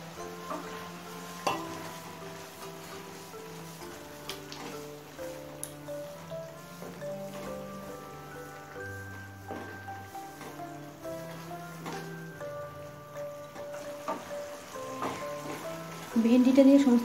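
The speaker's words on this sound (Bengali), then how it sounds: "এবার ভিজে রাখা ভেন্ডিটা দিয়ে দেবো।" Soaked okra going into a hot pan for an Indian mustard-paste okra dish, a soft sizzle with intermittent stirring and scraping, fairly quiet with background tones, growing louder near the end.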